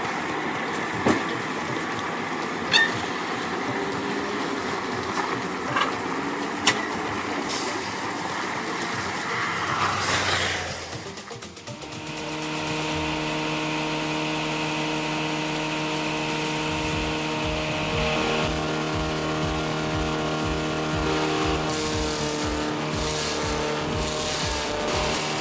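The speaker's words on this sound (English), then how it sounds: "Gravel crunches under the tires, engine pulling hard" Heavy Scania G480 6x6 log truck engine pulling hard on a gravel road, a steady loud droning roar with a rising pitch and clanks early on, then a sustained throbbing tone.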